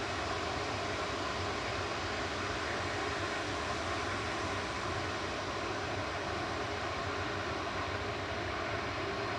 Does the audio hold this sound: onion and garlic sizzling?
no